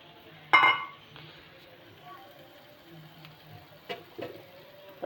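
A spoon stirs kadhi of curd and gram flour in a cooking pot, giving a sharp clink near the start and a few softer taps later over a faint, quiet background.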